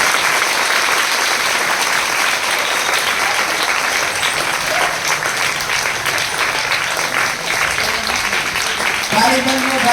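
Vigorous crowd clapping at a primary school Independence Day flag ceremony, loud and continuous for the whole stretch, with faint voices emerging near the end.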